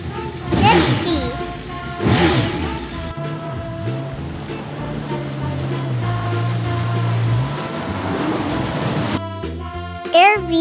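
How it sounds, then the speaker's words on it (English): A jet ski speeds across open water, its engine drone rising and falling in pitch over splashing surf, fairly loud and steady for about nine seconds before a brief burst of other sound at the end. "Jet ski."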